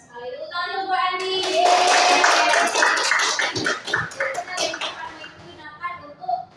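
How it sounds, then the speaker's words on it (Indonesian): A class of children clapping together indoors, a brisk burst of applause that swells, holds for a couple of seconds and then trails off into scattered claps, with a teacher and children talking around it. "Tepuk tangan dulu buat Andi."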